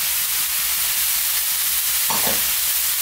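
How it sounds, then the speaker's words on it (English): Fresh mushrooms frying in a pan with garlic chicken: a loud continuous sizzle with a short scraping stir near the end, no voices. "at this stage, we're now going to add in our fresh mushrooms"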